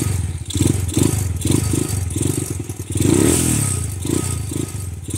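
Grom motorcycle with a newly fitted Nibbi carburettor being started without choke: a sputtering, clattering engine that catches and runs unevenly, with rhythmic pulsing and a brief rev, loud and close throughout.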